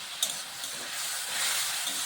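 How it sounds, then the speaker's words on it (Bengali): Spiced masala and tomato sauté in a pan, giving a soft, steady sizzle and hiss close by. A faint click or scrape of stirring is heard early on. "এবার আমি ভালোভাবে মশলাটাকে কষিয়ে নিচ্ছি। টমেটোটাকে একটু গলিয়ে দেবো।"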